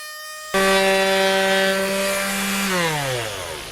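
A Makita cordless quarter-sheet sander starts abruptly and runs on wood with a loud, steady buzzing whine, its pitch dropping slightly as it works near the microphone.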